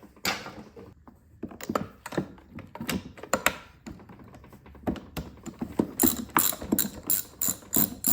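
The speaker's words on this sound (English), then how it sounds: "Pull that spark plug out." A hand ratchet backs a spark plug out of a Predator 2000 inverter generator with a run of close, crisp clicking strokes that grow quicker and more regular toward the end.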